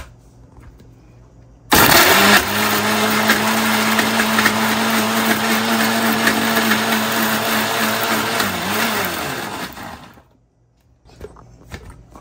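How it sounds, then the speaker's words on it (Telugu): A mixer grinder blends onions for Nellore red chilli chutney without water, roaring loudly on for about eight seconds with a steady motor whine, then cutting off abruptly into quiet room noise. "సో మిక్సీకి వెళ్ళిపోదాం."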